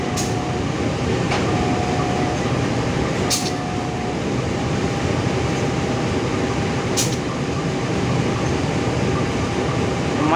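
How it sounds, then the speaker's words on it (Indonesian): KA Rajabasa passenger train stopping at Haji Pemanggilan station: a loud, steady rumble and hum fill the carriage, broken by a couple of brief metallic clanks, with no talking. "Ini keretanya berhenti dulu nih teman-teman."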